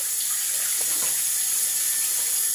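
Tap water running steadily into a sink during handwashing, a continuous close hiss and splash with no talking.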